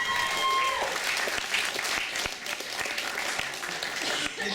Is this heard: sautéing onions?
no